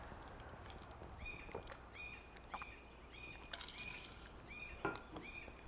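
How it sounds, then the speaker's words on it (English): A bird outdoors repeats a sharp, high two-part call roughly every half second, loud and clear over a soft, steady background hiss. "There's a very loud bird outside."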